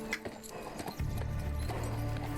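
Horse hooves clip-clop in a scene from Outlander season 7, episode 4, a quick, fairly faint run of hoofbeats with a low rumble of score and other sound behind it.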